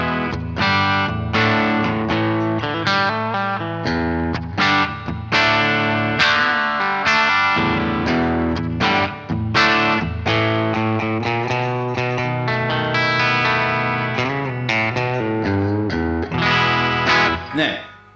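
Clean guitar patch played through a Boss IR200 straight into an audio interface, a continuous chordal passage with chorus and effects shimmer, even, close and steady with no talking.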